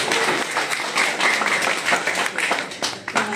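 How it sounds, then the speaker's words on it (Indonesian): An audience at a live music concert applauds, a dense, continuous wash of many hands clapping with scattered louder claps throughout, with no one speaking over it. "Sekali lagi tepuk tangan untuk dokter"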